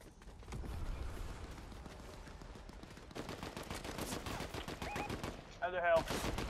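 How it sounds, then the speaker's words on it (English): Players shooting in the video game Fortnite produce repeated rapid gunshot bursts, some louder and nearer, some farther off, with brief chirping game effects near the end. "Player shooting up here."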